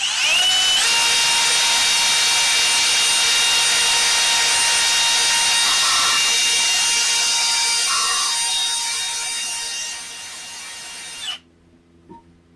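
Steady high-pitched whine of a rotary brush polishing aluminum, running continuously for about eleven seconds, close and loud, with slight load changes midway before it cuts off and spins down.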